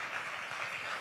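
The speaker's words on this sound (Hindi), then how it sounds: "जोरदार तालियां हो" An audience at a Hindi poetry recital gives a brief, dense burst of applause that stays even and fairly distant.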